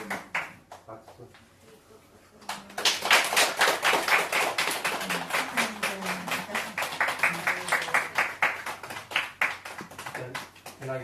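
After a quieter start with scattered taps, a group breaks into steady applause with many hands clapping together at a Buddhist retreat-closing ceremony, continuing strongly to the end.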